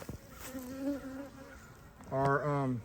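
Honey bees buzz in a steady drone as they fly around their hives during the peak honey season, a close, continuous hum that swells louder toward the end.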